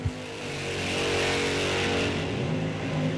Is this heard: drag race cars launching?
yes